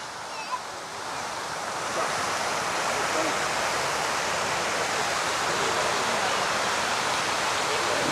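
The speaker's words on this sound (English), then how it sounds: "this water fountain's very loud here" A large water fountain in VDNKh park, Moscow, sends up a loud, constant rushing roar of falling water. The noise is broad and steady for the whole stretch, with only faint bumps above it.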